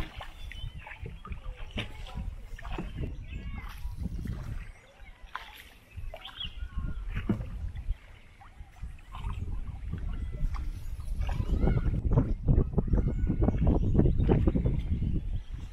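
A traditional wooden rowboat crossing through Konkan mangroves, with oars splashing and knocking on the wooden hull and water lapping close by, and faint birds in the background. The sound swells louder toward the end.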